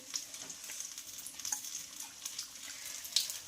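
Besan-coated vada for vada pav sizzles in oil in a kadhai, a quiet, steady crackling fry with small pops and bubbling, close but faint, no voices.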